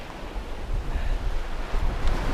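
Ocean waves wash back over small rocks at the water's edge in the Valley of the Rocks, a steady, rushing surf roar mixed with wind buffeting the microphone, with no voices.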